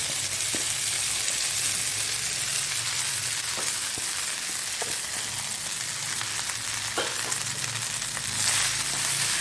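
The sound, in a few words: leftover rice being stirred in a hot pan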